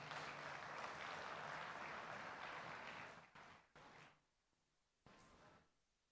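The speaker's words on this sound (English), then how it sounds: "Please have a huge round of applause for such a wonderful speech." A large audience at a student tech festival applauds after a speech, a steady wash of clapping that fades out after about three seconds into scattered claps and quiet.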